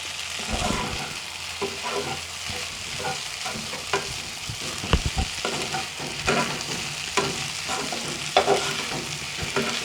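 A spoon scrapes repeatedly through home-cooked chicken biryani in a pot, irregular stirring strokes knocking and shuffling over a constant low sizzle, close and fairly loud.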